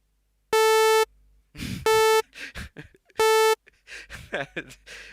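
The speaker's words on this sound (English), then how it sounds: "And right now the snare drum sounds like a saw wave again." Synthesizer snare drum patch that sounds like a buzzy saw wave: three short loud tonal bursts, each under a second, with talking in between.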